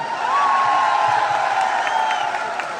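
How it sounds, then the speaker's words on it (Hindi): Loud applause at a team celebration, crowd clapping and cheering as a broad continuous wash with a voice rising over it, sustained and full. "तो एक बार जोरदार तालियां"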